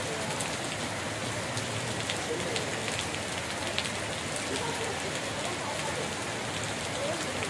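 A downpour drums steadily across Kadiri town, with thick, unbroken patter of rain on nearby surfaces and a few sharper drops standing out.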